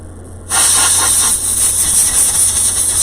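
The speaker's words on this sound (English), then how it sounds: "I just take a big old can of air and spray them" A can of compressed air lets out a loud, close, steady hissing spray that starts abruptly and runs for a few seconds while dusting Christmas decorations.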